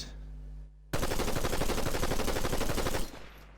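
Assault rifle gunfire in the Fortnite video game, one loud sustained burst of rapid automatic shots lasting about two seconds, close and dense, with no talk over it.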